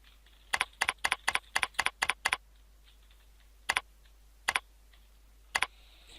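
Keys click on a computer keyboard while a chart title is typed in Microsoft Excel, a quick burst of about nine crisp taps followed by three slower, separate keystrokes, close and clear with no talk.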